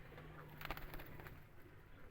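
Pet pigeons cooing softly in a coop, a faint low murmur over steady background hiss.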